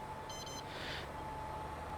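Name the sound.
machine warning beep in Farming Simulator 22 video game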